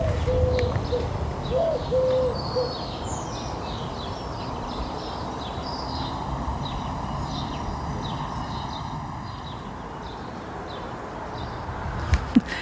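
A wood pigeon gives a few soft, low cooing calls early on as it lands, over a steady outdoor backdrop of chirping songbirds, with a couple of sharp clicks at the end.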